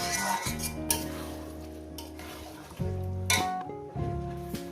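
Mutton curry with potatoes stirred and fried in a pot, a spoon scraping and clanking against the metal in several bursts over a low steady sizzle, close and alone.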